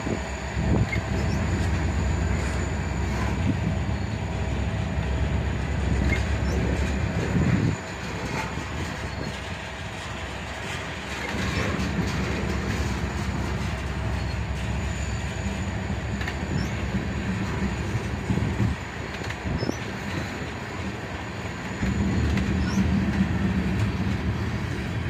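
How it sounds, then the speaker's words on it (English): A manifest freight train led by an SD43 rebuild with a trailing SD42 rolls past close by, a loud continuous rumble of cars and wheels that dips and swells with faint squeals. "A manifest train with a little bit of everything."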